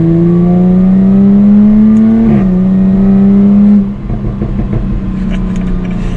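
2021 Jaguar F-Type R-Dynamic accelerating, a loud close exhaust note climbing in pitch through a gear change, then dropping into a crackling burble of exhaust pops as the throttle lifts.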